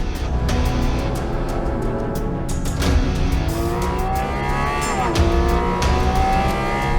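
A mid-engine sports car driven hard, its engine revving and climbing through gears with a loud, continuous roar and tire noise close by, no talk.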